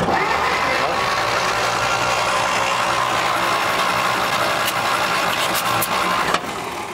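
A 1952 Dodge B3 truck engine cranks over after a rebuild, a steady rumbling churn that holds for several seconds before cutting off, with people talking close by.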